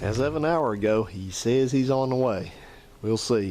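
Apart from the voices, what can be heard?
None of the usual background noises is heard.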